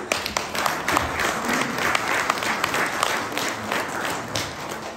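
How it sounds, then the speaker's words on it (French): An audience at a Brussels economic forum applauds a woman called up to the stage, a dense sustained burst of clapping with sharper individual claps standing out, fairly loud and continuous. "Est-ce que vous pouvez l'applaudir?"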